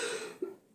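A single short, husky cough comes near the middle of a quiet, breathy stretch, close to the microphone.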